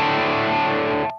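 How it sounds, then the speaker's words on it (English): An electric guitar chord played through the red side of a worship pedalboard overdrive, a thick, harmonically rich distorted tone that rings steadily for about a second before being cut off sharply. "I can kick on the red side just for more harmonically rich overdrive."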